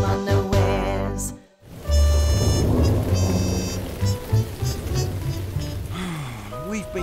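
Steady rain pours down outside for days on end, a dense hiss of drops on surfaces running beneath cartoon music and sound effects after a brief pause.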